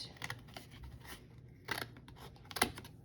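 Scissors snip through paper in several short, crisp bursts while cutting an outline, with quieter rustling between them, close by and with no one talking.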